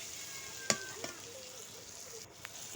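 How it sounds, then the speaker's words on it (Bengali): Small fish frying in oil in a pan, a steady soft sizzle running throughout with a few sharp clinks or pops standing out briefly, no talking. "মাছগুলো আমি ভালোভাবে ভেজে নিব"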